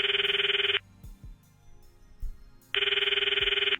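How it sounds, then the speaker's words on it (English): A phone ringtone in the Steins;Gate video game plays two bright, buzzing electronic ring bursts, each about a second long, separated by a quiet gap with soft background sounds. "The ringtone echoes in my ears."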